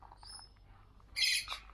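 Lorikeets in an aviary pen at a Cornwall wildlife park give a short, loud, harsh squawk close by, preceded by faint chirps.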